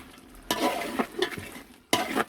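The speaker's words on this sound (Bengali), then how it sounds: "এই যে খোসা ছাড়িয়ে রাখা আলুগুলা দিয়ে দিলাম" Peeled boiled potatoes drop into cooking meat and get stirred, two loud scraping bursts of spoon against the pot with a soft sizzle between them, all up close.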